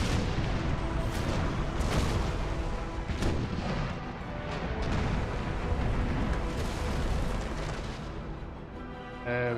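Cannons firing chain shot in an Empire Total War naval battle, a dense continuous roar of overlapping booms and blasts that stays loud throughout the scene.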